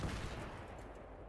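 Gunfire in the video game Battlefield 3, a loud burst of shots right at the start that quickly decays into a dull rumbling tail, with no talking.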